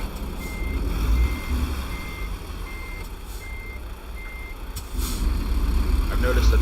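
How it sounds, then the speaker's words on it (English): Reversing beeps from a truck backing a trailer in American Truck Simulator, a steady repeated series of evenly spaced electronic tones over a continuous low engine rumble, with a brief muffled voice. "I have never taken this long to back a trailer."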